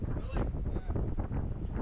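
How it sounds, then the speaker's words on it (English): Strong wind roars and buffets a microphone outdoors in a steady, loud, low rumble, with a person's voice partly audible under it. "It's pretty windy, so we ain't liking it."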